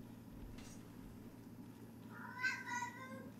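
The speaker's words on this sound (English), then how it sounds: "Yep, I hear you, kitty." A pet cat meows a few times in a drawn-out, rising-and-falling cry, moderately close over a steady low hum from a room where someone is gaming.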